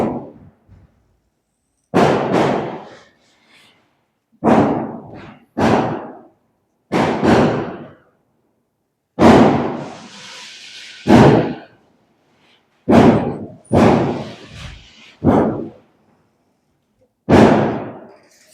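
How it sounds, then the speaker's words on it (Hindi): Firecrackers bursting outdoors during a function nearby: about ten loud, sharp bangs go off at irregular intervals, some in quick pairs, with short silent gaps between them. "आपको भी आवाज सुनाई दी होगी कंटिन्यू पटाखों की"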